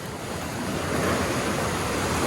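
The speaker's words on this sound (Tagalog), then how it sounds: "Ang lakas po ng alon." Strong ocean waves surge and wash close by on an island shore, a loud, continuous roar with wind buffeting the microphone.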